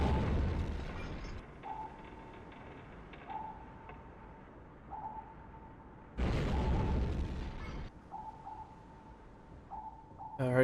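A torpedo strikes a ship in a submarine game aboard U-1131, heard as two loud booming impacts a few seconds apart, the second a long rumbling blast, between quiet stretches of ticking and periodic tonal pings.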